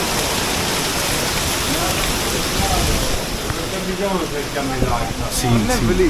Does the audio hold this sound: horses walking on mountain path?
no